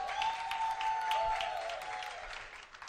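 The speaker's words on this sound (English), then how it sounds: "So please also give them a big round of applause." An audience in Kampala applauds steadily for about three seconds, a dense wash of clapping with a faint sustained tone running underneath.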